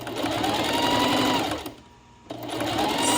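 A sewing machine runs steadily along a Dollar Tree pillow sham, its close, busy whir pausing briefly midway before starting up again.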